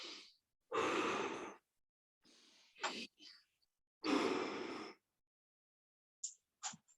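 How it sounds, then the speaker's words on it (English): Deep breaths during a plank exercise in a workout, several long audible inhales and exhales close up, with short breathy gaps and small sounds between them. "deep breath"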